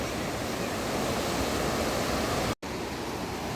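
The Ganges river at Haridwar rushes past, its fast current a loud, steady broadband roar heard close from the bank, briefly cut off near the end.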